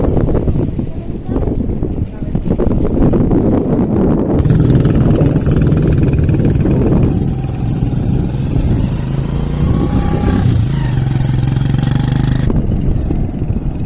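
A motorcycle engine runs on Inani sea beach, a steady mid-pitched drone with revving changes, heard close and loud under surf and wind while people talk nearby.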